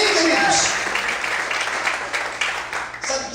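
Church congregation applauding, a broad, sustained patter of many hands clapping with voices mixed in, fairly close and steady throughout.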